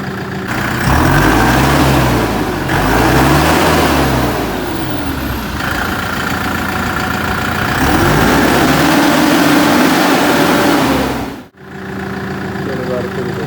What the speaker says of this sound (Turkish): traktörün en fazla hoşuma giden şeyi sesi bana göre muhteşem